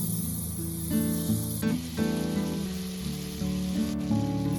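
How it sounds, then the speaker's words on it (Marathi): Green chilli pieces and ginger-garlic paste frying in hot oil and butter for pav bhaji, a steady bright sizzle running throughout with soft background music. "हिरव्या मिरचीचे तुकडे आणि अद्रक लसूणची पेस्ट चांगली तळून घ्यायची"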